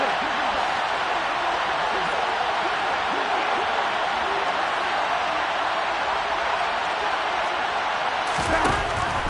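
Football stadium crowd in a video game, a dense continuous roar of cheering at a big third down, loud and unbroken, with a brief sharper swell near the end.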